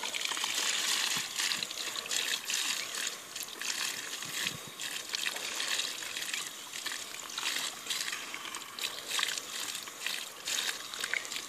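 Water steadily trickles and sloshes as play sand is rinsed in a bucket, a continuous close wet hiss with small splashy surges and no voices.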